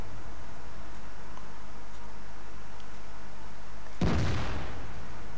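A single heavy tank cannon shot from an E75 in World of Tanks, one loud abrupt blast with a short decaying tail after several seconds of low engine rumble.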